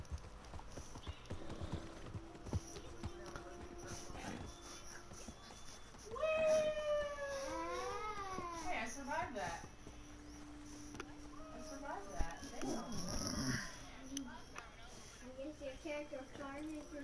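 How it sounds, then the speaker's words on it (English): Donkey hooves clatter in a PS4 video game during a race against a train, a faint quick clip-clop running under game music, squealing tones and someone talking. "See if we can outrun the train on the donkeys."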